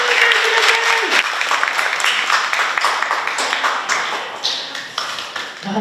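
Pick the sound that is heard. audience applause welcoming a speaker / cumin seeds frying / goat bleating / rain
audience applause welcoming a speaker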